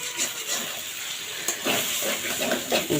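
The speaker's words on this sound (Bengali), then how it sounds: "এই তো লাল লাল করে ভেজে নিয়েছি," Ash gourd and shrimp frying in a pan while being stirred, a hissing sizzle with soft scraping strokes that swell and fade, moderately loud and close.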